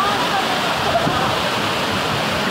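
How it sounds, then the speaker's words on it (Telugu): A waterfall in full flow roars as a steady, loud wash of rushing water, unbroken and close, with nothing else standing out. "ఏం సర్పంచ్ ఫుల్ వలుగు వాటర్ ఫాల్"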